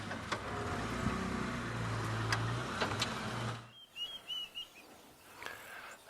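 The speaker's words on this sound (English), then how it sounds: "a beautiful bird that we've just spotted. And listen to it call." Wild bird in the African bush gives a few short chirping calls, faint and somewhat distant, after a vehicle engine rumble cuts out.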